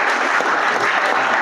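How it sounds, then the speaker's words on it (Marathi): Loud, dense clapping from a large audience fills the hall at a high school science exhibition and competition, steady and continuous with no gaps. "सगळ्यांच्या टाळ्या जोरदार होते. खूप जोरात शेवटचा परफॉर्मन्स"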